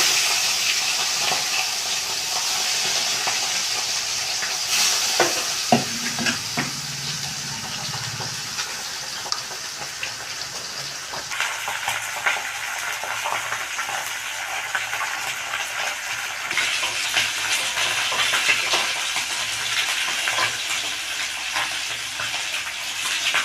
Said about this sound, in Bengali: এখন মাছটা আমি ভেজে নিচ্ছি